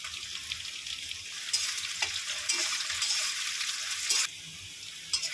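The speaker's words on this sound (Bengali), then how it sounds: "পেঁয়াজটা লাল করে ভাজা হয়ে গেছে" Onions fry in a pan for a goat liver curry, a continuous close sizzle with brief louder hisses as they are stirred, no voices.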